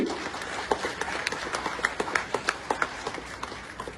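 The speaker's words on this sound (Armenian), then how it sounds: "Եկեք շատ բարձր ծափահարենք այսօրվա մասնակիցներին" Audience at an awards-style event clapping for the participants, a loose scatter of sharp claps building into rhythmic applause over a steady room murmur, moderately distant.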